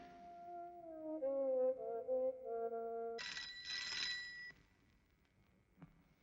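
A telephone in a home rings in a 1970s Hindi film scene, a steady electronic warbling tone repeating for about three seconds before a brighter, harsher ring takes over, then fading out.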